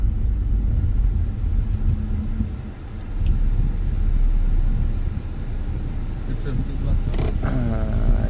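Traffic jam on a narrow single-lane road in a residential area, with steady engine rumble and passing vehicles up close and a couple of brief horn toots near the end.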